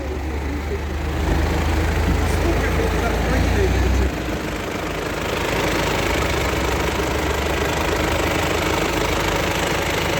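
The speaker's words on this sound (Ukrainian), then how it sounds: "Трактор дерчить." An old black Zaporozhets car idles with a dense, rattling, tractor-like clatter that runs steadily throughout, with a heavier low throb in the first few seconds.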